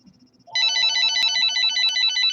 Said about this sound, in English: Phone again.